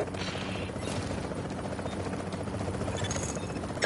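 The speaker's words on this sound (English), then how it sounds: "Chopper is inbound." An extraction helicopter in Tom Clancy's The Division beta thrums steadily with a dense rotor chop and engine roar, loud and continuous throughout with no talk over it.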